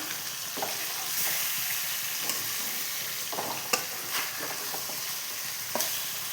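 Fish pieces fry in masala gravy in a pan on the stove, a steady close sizzle and bubble with occasional soft scrapes and clicks as the pieces are turned.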